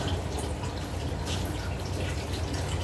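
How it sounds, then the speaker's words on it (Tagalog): Sinigang broth with maya-maya fish and vegetables is coming up to a boil in a pot. A dense, steady hiss with scattered bubbling pops fills the whole stretch, and no one speaks. "Ayan, malapit ng kumulo."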